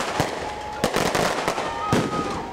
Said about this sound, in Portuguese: soltando fogos.